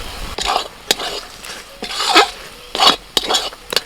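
Spatula strokes scrape and clatter through pea filling mixed with gram flour in a pan, several bursts of stirring over a low sizzle, loud and close, with no talk.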